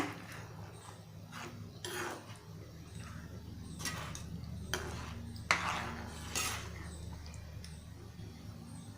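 A spoon stirs kokum into dal in a metal pot, giving several soft scrapes and clinks at irregular intervals over a low steady background hum, close and fairly quiet.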